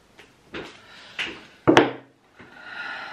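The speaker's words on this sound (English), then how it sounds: "Just give them a quick shuffle." A Japaridze tarot deck and a second tarot deck being shuffled on a table: several separate scraping, sliding and tapping strokes of cards, close and fairly quiet, with one sharper slap near the middle and no talking.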